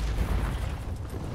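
A grenade blast in a Call of Duty game, a heavy low boom with a rumbling decay lasting about a second, moderately loud.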